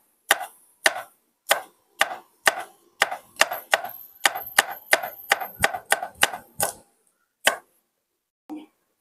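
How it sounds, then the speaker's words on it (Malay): Winged beans being thinly sliced with a knife on a board: a run of sharp, evenly spaced close chops, speeding up midway, then a few sparser cuts trailing off, with no talk. "Ni sayur kacang botol ni kita hiring nipis ya."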